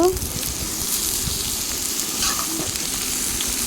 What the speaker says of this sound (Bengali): হালকা হালকা ভাজা ভাজা হয়ে গেলে চাল কুমড়াটা এখন দিয়ে দিব